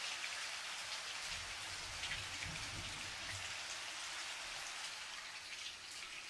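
Rain patters steadily on a camera during a thunderstorm, a constant dense hiss of drops striking close to the microphone, fairly soft and even throughout with no voices.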